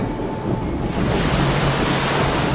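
Ocean waves crash and roil in a stormy sea where a junk ship is torn apart, a dense continuous surf roar with wind rushing over it, loud and close.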